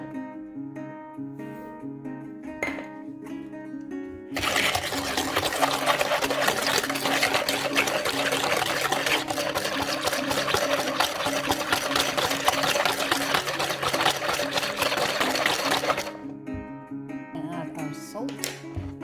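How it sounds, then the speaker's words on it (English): Butter and sugar being whisked for cinnamon roll dough, a loud steady whirring mixer drone that starts a few seconds in, runs for about twelve seconds, then cuts off, with softer background sounds on either side. "We are going to whisk our butter and sugar."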